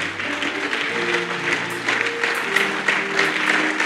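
A church congregation at a seminary service claps to acclaim the Lord, dense steady applause carrying on throughout with sustained music tones underneath.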